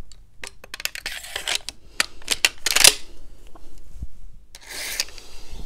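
Parts of a Saiga 308 rifle are fitted back together by hand, giving a quick run of sharp metallic clicks, snaps and rubbing scrapes, close and dry, with short pauses between.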